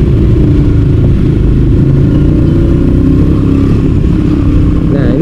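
A manual-clutch motorcycle rides while the throttle is held steady during clutching and braking: a loud, continuous engine drone with rumbling wind buffeting, close and unbroken throughout, with no clear voices.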